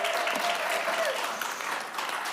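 An audience in a state legislative committee hearing room applauds after a presenter finishes, a steady wash of many hands clapping that tapers slightly toward the end.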